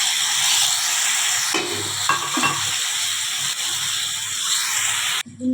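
Water poured into a pan of frying pointed gourd, a hissing, steaming sizzle that stays loud and steady throughout, with faint stirring scrapes and no talk.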